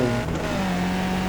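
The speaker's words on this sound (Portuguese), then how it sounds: "Desculpa a barulheira de carros aqui, que eu moro no centro da cidade" City-centre street traffic outside an apartment, heard as a steady, fairly loud engine drone with a passing car's tone sliding gradually lower.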